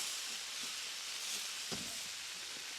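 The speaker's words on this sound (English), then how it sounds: "these are frying straight away rather than soaking up that oil" Steady sizzling hiss of mushrooms frying in hot oil, constant and fairly quiet, with a few soft clinks.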